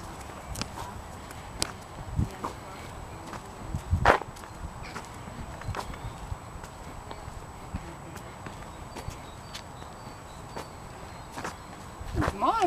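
Sparse horse hoof clops and footsteps on a hard surface at the Irish National Stud, a few sharp knocks scattered over a quiet background, with occasional faint voices.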